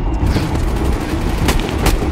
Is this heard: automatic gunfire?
yes